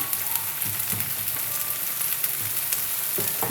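Garlic frying in oil for dried loitta fish with potato, a dense steady sizzle with occasional soft stirring taps, close and fairly loud, no talk.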